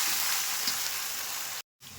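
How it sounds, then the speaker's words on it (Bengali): Onions frying in oil with bay leaf and whole spices, a loud, close, steady hiss of sizzling that cuts out briefly before resuming. "পরিমাণ মতো পেঁয়াজ দিয়ে দিলাম।"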